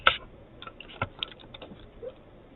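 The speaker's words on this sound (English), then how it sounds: "You have to type in" Keystrokes tapped out on the small keyboard of an Atari Portfolio palmtop computer, a quick burst at the start followed by scattered, irregular clicks, close and fairly quiet, with no talking.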